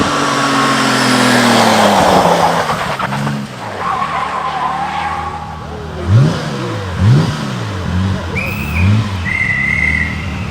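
Midland's 1.5 litre ERA vintage racing car at the Prescott hill climb, engine revving hard and then skidding with tyre squeal, followed by rising and falling revs through the gears as it pulls away, loud and close.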